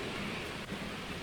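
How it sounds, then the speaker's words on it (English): Steady broadband hiss of rain falling through a tree canopy onto a camper lying in a hammock, with a low rumble of thunder underneath, continuous and fairly loud throughout. "I'm just gonna lay here and get rained on unless it gets really bad."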